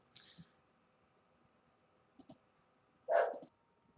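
A dog barks once, loud and close, near the end, after a few faint clicks and small sounds in an otherwise quiet room.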